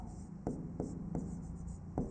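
Chalk or pen strokes tapping and scraping across a board as a word is written during a Hindi biology lesson on heredity, five short quiet strokes at uneven intervals with no talking.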